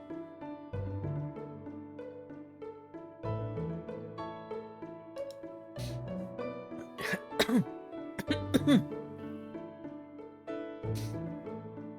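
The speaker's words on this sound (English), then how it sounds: "I can continue coughing like this" Several short, throaty coughs and throat-clearing bursts arrive in a cluster toward the middle, close and fairly loud over a soft sustained musical backdrop, with a few isolated coughs before and after.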